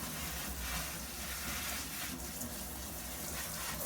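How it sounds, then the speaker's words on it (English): Steady running water from a sink tap over an AC unit filter, a continuous broadband splashing rush with no speech, fairly close and even throughout. "Simply run the sink over them."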